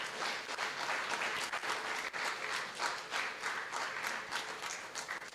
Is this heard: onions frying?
no